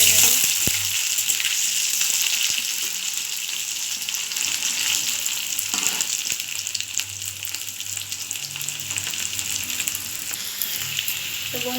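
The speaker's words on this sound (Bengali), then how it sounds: "আলুটাও আবার লাল লাল করে ভেজে নেব।" Potatoes fry in a pan until reddish brown, producing a loud, continuous bubbling sizzle with a few scattered taps, steady from start to finish.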